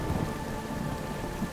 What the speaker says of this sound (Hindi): धीरे धीरे बारिश बहुत तेज होने लगती है